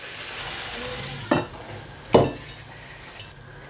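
Chicken curry stirred in a pan, with three distinct scraping strokes of a utensil over a soft continuous sizzle, no voices present.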